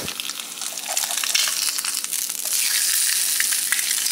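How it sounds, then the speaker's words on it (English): Eggs fry in a pan with a bright, crackling sizzle that grows denser and steadier after a few seconds, close and alone without talk. "I'm just cooking some fried eggs."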